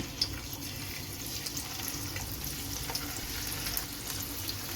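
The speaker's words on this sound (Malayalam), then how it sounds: "ഇനി നമുക്ക് നമ്മുടെ മീനൊന്ന് ഫ്രൈ ചെയ്തെടുക്കാം" Kilimeen fish pieces fry in sunflower oil for a fish pickle, giving a continuous dense sizzle and crackle that stays even and close throughout, with no talk.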